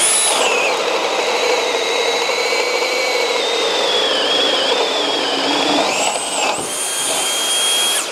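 A Flex cordless right angle drill on turbo mode bores through wood with a loud, sustained high motor whine that shifts pitch slightly under load, dips briefly near the end, then spins up again.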